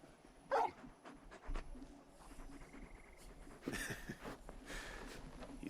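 Torgal, the large dog in Final Fantasy XVI, gives a brief whimper amid quiet game ambience, followed by faint shuffling and low sounds, fairly soft.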